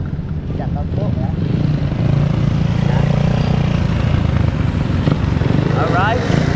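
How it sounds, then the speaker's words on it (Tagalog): A motorcycle engine running with no exhaust muffler drones steadily and fairly close, a low, raspy rumble that continues under almost constant talking and occasional voices. "parang hindi mausok yung motor mo kuya. Parang walang tambotso."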